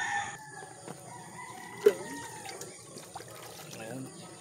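Chickens cluck and call softly nearby, with a rooster-like crow and scattered bird noises over a low outdoor background.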